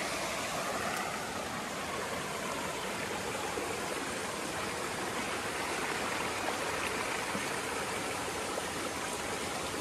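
A small stream of water flows across a hiking trail on the Pacific Crest Trail, making a steady, continuous babbling and rushing sound, fairly close, with no voices over it.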